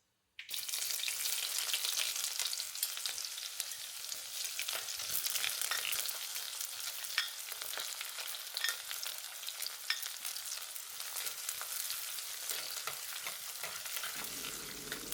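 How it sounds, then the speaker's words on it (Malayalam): Onions fry in a pan for Kerala tilapia fish curry in coconut milk, a steady close sizzle that starts abruptly and carries on with light stirring crackle throughout, with nobody talking. "ആദ്യം നമുക്ക് ഉള്ളി ഇട്ട് കൊടുക്കാം"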